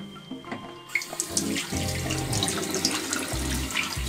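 Running tap water splashes over a helmet visor and pinlock, starting after a short quiet moment and continuing loud and close with clatter as the pieces are handled under the stream.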